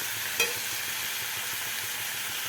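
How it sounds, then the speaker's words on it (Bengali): Pointed gourd and potato sautéing with spices in a pan for a shrimp and yogurt dish, with a steady close sizzle and hiss throughout and a single brief clink near the start, without speech. "হালকা কষা হবে একটু মানে পটল আর আলুর মধ্যে একটু মশলাটা যাবে"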